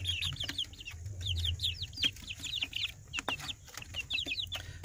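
Joper chickens, seven weeks old, cluck steadily in short repeated bursts at moderate distance, with a low background hum and occasional soft knocks.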